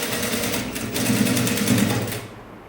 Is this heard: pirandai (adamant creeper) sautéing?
no